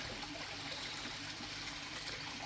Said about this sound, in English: I like how the water just goes over the whole face up there